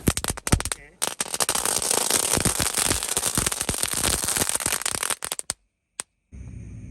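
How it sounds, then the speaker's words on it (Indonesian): Two packs of mercon pretekan (telur dino) firecrackers set off together at night during Ramadan, a loud, dense rapid-fire chain of cracks and pops lasting several seconds before breaking into a few scattered bangs, then a quiet tail. "Selanjutnya ini ada mercon pretekan atau telur dino 2 pak sekaligus."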